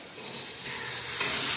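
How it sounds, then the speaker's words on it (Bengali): Spice paste fries in oil for an egg and spinach curry, giving a steady close sizzling hiss that grows a little louder partway through, with no voices. "বেশি করে মশলাটা কষিয়ে নেব যাতে করে তেল করছে"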